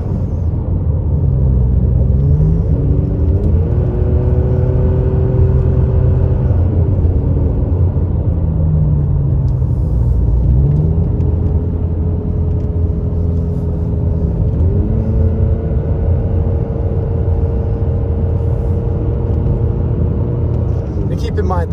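A car climbs the snowy Highway 18 mountain road toward Big Bear, its engine giving a steady, loud rumble with tones that rise and settle as it shifts and accelerates along the whole drive.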